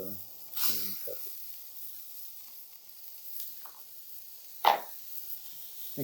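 Green pepper and shallots frying in a pan give a faint, steady sizzle, with a brief low voice near the start and a few soft kitchen knocks, one sharper clack near the end.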